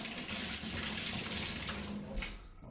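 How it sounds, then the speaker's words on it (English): Water rushes steadily through house plumbing at the service line, a loud, continuous hissing flow that holds for most of the time before easing slightly at the end. "have somebody turn the water on outside for me at the house service, so that we can blow out as much of the debris as we can"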